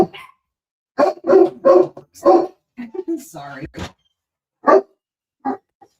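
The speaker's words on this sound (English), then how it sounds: "Then come in here, but don't bark in here" A dog barks indoors after a firework goes off, giving a quick run of sharp, close barks followed by a few spaced single barks, with brief speech in between.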